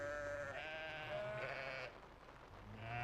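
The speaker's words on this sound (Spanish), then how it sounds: "se suceden los balidos entre la manada" A flock of sheep bleats in a countryside pasture during a seasonal migration, several overlapping calls rising and falling against a soft outdoor background, moderately near.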